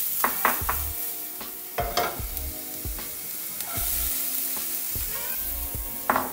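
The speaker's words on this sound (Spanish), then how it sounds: "Vamos a agregar un poquito de aceite de oliva, un poquito de cebolla y vamos a dejar que se acitrone un poco." Onion frying in olive oil in a pan over high heat, a steady close sizzle broken by sharp clinks and scrapes of a utensil stirring against the pan, with no voices.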